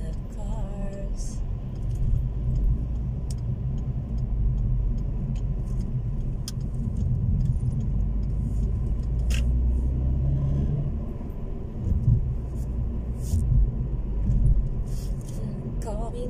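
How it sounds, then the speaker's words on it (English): Steady road traffic with many cars in New Zealand, a continuous low rumble of engines and tyres passing close by, with no talking. "lots of cars, lots of cars, it's traffic"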